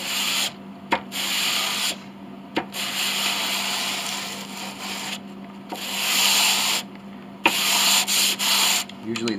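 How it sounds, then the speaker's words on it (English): Sandpaper rubbed back and forth over piano bridge pins on a Mason & Hamlin bridge to make them flat, loud rasping strokes in steady repeated passes with brief pauses between. "I'm now going to sand them. Make sure they are nice and flat."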